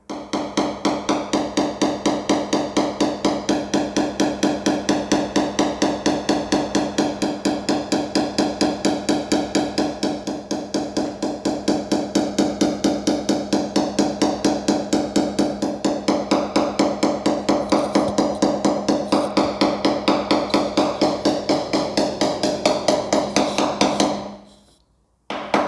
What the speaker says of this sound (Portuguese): E com o martelo mesmo, ó.